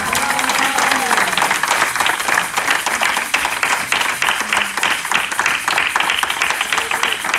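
Church congregation applauding in praise, loud dense clapping from many hands filling the space continuously, with a voice speaking over it.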